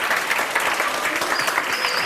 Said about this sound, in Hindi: तो उसके लिए भी बहुत सारी तालियां हो जाए।